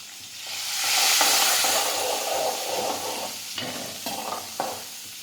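Curry leaves, chillies and tomatoes crackle in hot oil in a pan with asafoetida, a close sizzle that swells after about a second and then eases off, broken by a few stirring scrapes and no talking.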